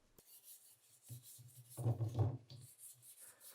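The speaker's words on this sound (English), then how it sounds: "I'm scrubbing it with fine steel wool and then applying another coat" Fine steel wool scrubs over the finish of a Japanese WWII rifle's wooden stock in short, soft rasping strokes, faint and close, with a brief louder burst of rubbing in the middle.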